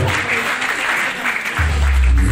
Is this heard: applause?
yes